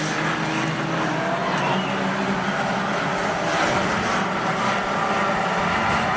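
Race cars in a Fender Benders event roar around Rockhampton Speedway, a dense continuous engine drone from several cars at once, steady and fairly loud throughout, with no clear pass-by peaks standing out.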